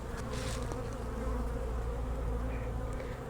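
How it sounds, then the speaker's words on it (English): Honeybees hum continuously around an open beehive during winter preparation of a hive, a close, steady buzzing swarm with individual bees passing near. "And here's more bees."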